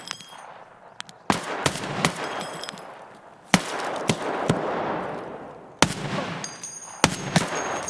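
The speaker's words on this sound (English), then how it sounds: "They're eating like two ASh-12 shots" Heavy ASh-12 rifle gunfire in an Escape From Tarkov raid: loud single and doubled shots spaced irregularly over several seconds, each sharp crack followed by a long echoing tail, with a few softer distant pops between.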